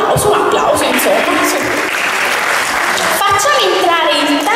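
An audience at an Italian cabaret show claps in dense, sustained applause throughout, with a voice talking over the clapping.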